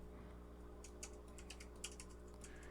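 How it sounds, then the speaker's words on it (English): Quick bursts of keystrokes on a computer keyboard in a busy trading office, clicking in an irregular rhythm through the second half over a steady low hum of room and equipment noise. "Charlie's typing her little fingers off"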